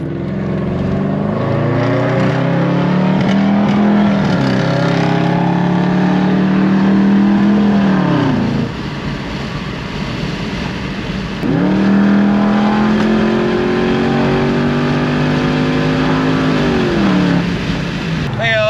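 An Audi RS6 engine revs up through its gears on a highway, pulling hard, easing off midway, then accelerating again, loud and close throughout.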